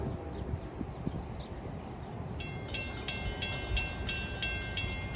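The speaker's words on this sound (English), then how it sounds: "this should be train 53, Hoboken to Port Jervis" NJ Transit train 53 from Hoboken to Port Jervis passes with a steady low rail rumble, and a sustained horn-like tone enters midway and continues to the end.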